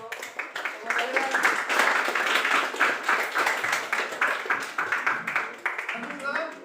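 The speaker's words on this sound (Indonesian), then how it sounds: "Tepuk tangan." A classroom of students claps continuously, with many hands giving a dense, even patter at moderate level. Voices mix in with the clapping.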